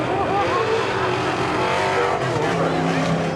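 NASCAR Whelen Modified race cars roar continuously around Seekonk Speedway, engines droning loud and close, with a track announcer's voice running beneath the noise.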